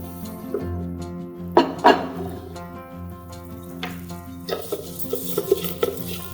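Arborio rice stirred in hot oil in a pan gives a soft, close sizzle with scraping and a few sharp clinks of utensil against the pan, over a steady low hum.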